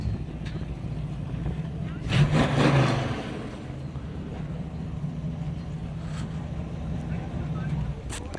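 A hobby-class race car engine drones past the flag stand at a dirt track, a steady low rumble that surges briefly louder as it goes by, with an announcer talking over it.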